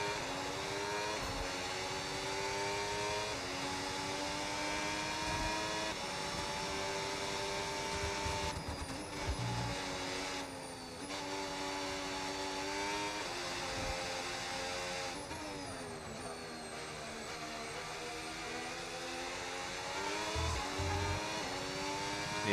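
Formula 1 car engine in the F1 26 racing game, revving high and climbing through gears with sharp shift drops, a continuous loud whine with brief dips between upshifts.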